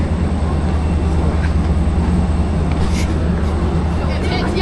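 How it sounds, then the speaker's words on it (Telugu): A train pulls into a station in South Korea, producing a loud, steady rumble and roar that fills the whole stretch without a break. "వచ్చేసి ట్రైన్ వచ్చింది."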